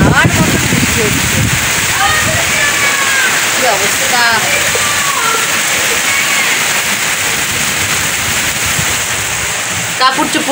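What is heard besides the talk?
heavy wind-driven rain outside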